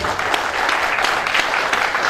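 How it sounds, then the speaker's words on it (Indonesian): An indoor audience at a business event in Yogyakarta claps steadily for a speaker, a dense, even patter of many hands at moderate distance with no talk over it. "berikan tepuk tangan terlebih dahulu kepada pembicara pertama kita ya"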